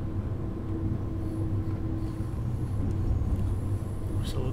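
A BR 406 high-speed train running fast in Train Sim World 2, giving a steady rumbling drone of wheels and motors at even loudness, with faint talk over it.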